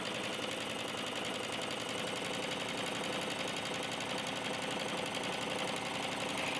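A sewing machine chain-stitches flannel quilt squares, its rapid, even needle chatter running continuously and close by without pause.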